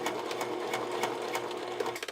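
Sewing machine running a zigzag stitch around the perimeter of lace for a lingerie overlay, a steady fast mechanical whirr with rhythmic needle ticks, close and continuous for a couple of seconds, with no talk.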